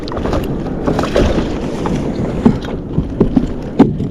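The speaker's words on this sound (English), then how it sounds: "Paddle out of the danger zone real quick." Paddle strokes from a fishing kayak on open water, a few uneven splashes and knocks over wind noise, close to the microphone, with no talk.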